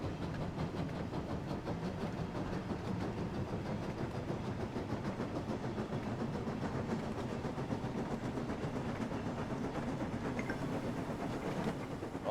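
James, the red engine from Thomas & Friends, runs along the rails in a Wonders of Sodor video game, a steady rumbling roll with a faint clickety-clack that continues throughout without pause.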